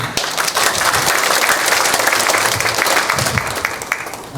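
An audience at a church assembly policy debate session applauds, steady dense clapping that holds at full strength throughout without talk.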